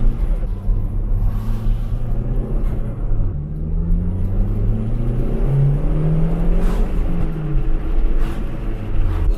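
Turbocharged Toyota Starlet with the boost turned up accelerating through city streets, a loud close engine drone rising in pitch through the gears with a steady low rumble.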